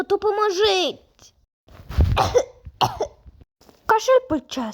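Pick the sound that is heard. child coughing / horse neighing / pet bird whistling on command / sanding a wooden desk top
child coughing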